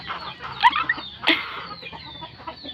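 Chickens and chicks clucking close by, with a couple of sharper, louder clucks standing out over a steady murmur of softer cheeping and fowl chatter.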